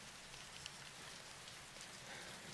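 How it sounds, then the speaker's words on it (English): Steady rain falls in a One Piece anime episode, a soft, even hiss of drops that continues without a break, faint and without voices. "And now the rain fades back in"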